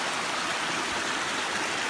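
A cold waterfall on a family hike gives a steady, dense rushing roar, close and unbroken, with no voices over it.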